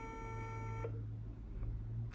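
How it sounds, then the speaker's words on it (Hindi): A phone dialing tone sounds as a call is placed: steady layered tones hold for most of a second, then stop, leaving a quieter line with faint background noise. "अतिया समर बिलाल भाई को कॉल करते हैं और देखते हैं कि किस किस को हमने कॉल करनी है"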